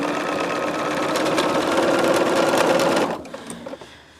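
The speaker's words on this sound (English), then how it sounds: "So I'm going to go back a few stitches and stitch back over that." A sewing machine stitching gloves runs loud and steady with a rapid mechanical chatter, then stops abruptly near the end, leaving a few faint clicks and handling sounds.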